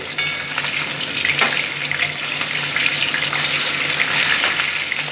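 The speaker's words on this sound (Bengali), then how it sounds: "মাছগুলোকে আমি এখন একটু উল্টে দিচ্ছি।" Hilsa fish pieces frying in hot oil for a Bengali mustard-poppy seed dish, a steady close sizzle with occasional crackles as the fish is turned, no voices.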